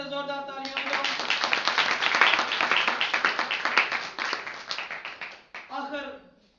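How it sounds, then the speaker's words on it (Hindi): A congregation at a church sermon claps in a sustained round of applause, dense and steady for several seconds, with a speaking voice before and after. "खुदा दे कलाम वास्ते जोरदार तालियां बजाओ"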